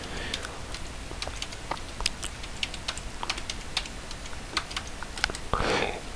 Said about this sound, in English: So type his password.